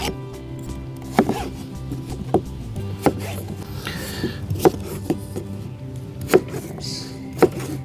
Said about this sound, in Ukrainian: Картопля в мене середнього розміру, і я нарізаю її на дольки.